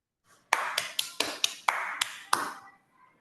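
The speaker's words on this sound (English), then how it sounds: "You can all unmute and give a round of applause for yourself." Online meeting participants clapping after unmuting, a handful of sharp separate claps in an irregular burst lasting about two seconds, fairly close and thin, then quiet.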